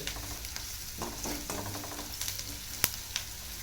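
Food frying in a pan while being stirred, a continuous close sizzle with scraping stir strokes and a sharp clink near the end, no talking.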